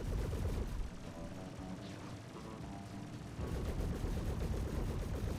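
Ship turret gunfire in the space game Star Citizen, dense continuous rapid firing that rumbles heavily throughout and swells louder near the end, with no voices.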